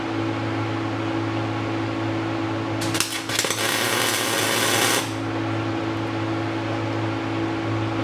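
A welder tack-welds a modified SM465 four-speed shifter part, giving one roughly two-second burst of crackling buzz against a steady background hum.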